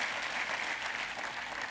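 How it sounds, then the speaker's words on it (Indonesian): A church congregation bursts into applause during a sermon, a dense, steady wash of many hands clapping at once that holds evenly throughout and carries no speech over it. "Tepuk tangannya yang paling meriah buat Tuhan kita."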